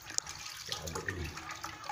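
Liquid fertilizer mixture (POC Nasa) for long beans is stirred in a container, giving a brief, faint swishing slosh of liquid with a small splash near the start.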